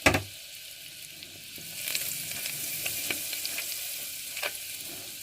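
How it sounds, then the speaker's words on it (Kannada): Butter melts and sizzles in a pressure cooker, a soft steady hiss of frying with a few small pops and a clink of utensil at the start, close and fairly quiet. "ಒಂದು ಸ್ವಲ್ಪ ಬೆಣ್ಣೆ ಕರಗಲಿ"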